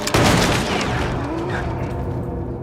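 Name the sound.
gunshots in Little Nightmares 2 video game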